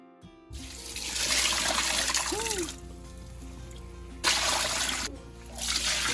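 Tap water gushes and splashes while a stone molcajete is rinsed clean during seasoning, pouring in two loud stretches with a quieter dribble and a brief pause between them.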